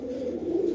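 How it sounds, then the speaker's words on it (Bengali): Fancy pigeons in an indoor loft give a low, steady cooing that carries without a break through the short moment, close and moderately loud, with no voices. "80 থেকে 90টা হবে কবুতর আছে টোটাল।"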